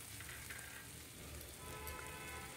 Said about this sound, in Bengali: আলুগুলোকে কিছুক্ষণ ভেজে নিতে হবে, তারপরে কিন্তু বাকি সবজিগুলোও দিয়ে দিতে হবে।